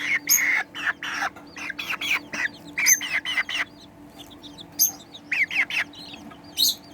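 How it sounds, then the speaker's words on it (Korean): Two-month-old Serama chickens, the smallest chicken breed, cluck and chirp in short bursts of high, sharp calls, close and fairly loud with brief pauses between, no talking. "2달 된 세레마야. 세상에서 가장 작은 닭이죠."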